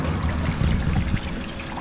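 Water runs through a TGD flow modulator fitted with a deflector, a close, continuous trickling and gurgling flow that stays fairly loud and steady for the whole moment.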